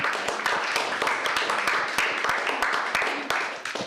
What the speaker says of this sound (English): So a round of applause for them again.